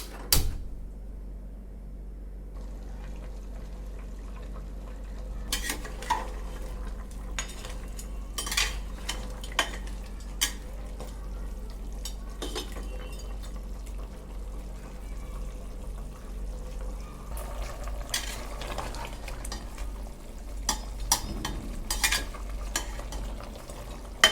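Mutton cooking in an open pressure cooker, with a low simmer and bubbling under scattered metallic scrapes and clinks of a spoon stirring against the pot, close by and fairly quiet, with no talking.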